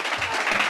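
Brief burst of applause from attendees at a town board meeting, a dense patter of clapping hands with no one talking.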